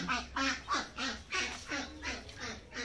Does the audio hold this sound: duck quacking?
yes